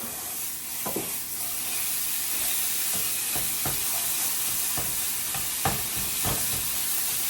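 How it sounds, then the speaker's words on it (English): Turkey sausage browning in a pan, with a steady sizzle and fry hiss. A utensil scrapes and stirs through it in intermittent strokes, fairly close. "Now our turkey is starting to get brown, so let's go ahead and start stirring."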